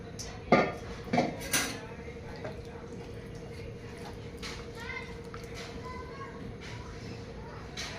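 Chicken is stirred into hot oil in a pot for biryani, giving a few sharp metallic clinks and scrapes over a steady sizzle. Someone speaks softly throughout.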